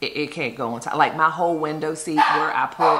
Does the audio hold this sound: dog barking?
yes